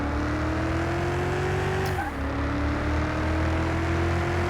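A 2,000-horsepower car spins its wheels in Car Mechanic Simulator 2021, a loud sustained engine roar with a rising whine that dips briefly and climbs again, continuous throughout.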